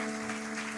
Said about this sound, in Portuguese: E você aplauda ao Senhor mais uma vez.